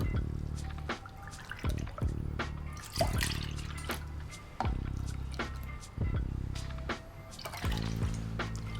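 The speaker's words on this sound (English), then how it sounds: "And now we're going to add the milk." Milk is poured into a pot of cream for a berry crumble, with wet splashing and dripping that comes in uneven bursts and pauses. It sounds close and moderately loud, with soft clinks between the pours and no talking.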